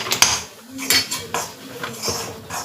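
Maida flour being stirred into a mixture in a pan, a series of close metallic scrapes and clinks from a spoon against the pan, coming in uneven strokes about every half second.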